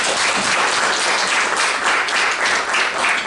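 An audience at a university energy lecture in Korea claps together, a dense, steady burst of applause that stays even throughout and carries no talk.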